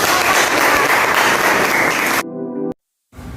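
Classroom audience applauding a student group's presentation, loud dense clapping that stops abruptly, followed by a short toned sound, a moment of silence and faint sound returning.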